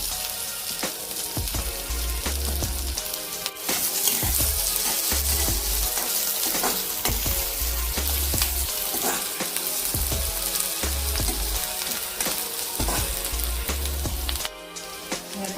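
Finely chopped capsicum frying in a pan of oil with golden-browned onions for a pav bhaji paratha: a loud, steady sizzle with light stirring and clatter running throughout.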